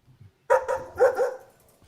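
A person imitates a dog, giving two or three quick bark-like yelps close to the microphone.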